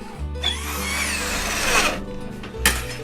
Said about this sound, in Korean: 드릴을 장착합니다. 한 번에 구멍을 뚫는 것이 아니라 앞뒤로 여러 번 움직이며 작업합니다.